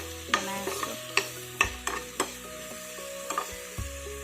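Spices being dry-roasted in a pan for a butter paneer masala, with a spatula scraping and clacking in sharp, irregular strokes over a faint sizzle and no talking.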